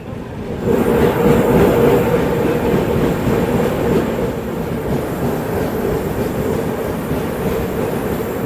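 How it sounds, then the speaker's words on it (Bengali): A train running through forest and tea gardens toward New Mal Junction rumbles steadily along the track, a loud continuous roar with faint wheel clatter and a thin metallic squeal above it. "জঙ্গল আর চা বাগানের মধ্যে দিয়ে আমাদের ট্রেন ছুটে চলেছে নিউমাল জাংশনের উদ্দেশ্যে"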